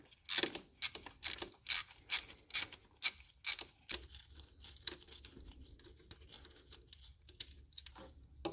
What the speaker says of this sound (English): we're going to remove the 1/2 inch bolts that are holding the tensioner onto the alternator